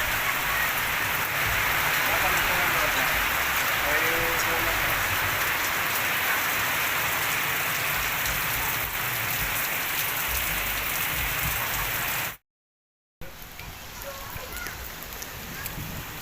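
Heavy rain pours down at an outdoor work site, a loud, dense, constant patter on surfaces that cuts out briefly near the end before resuming, with a voice faintly underneath.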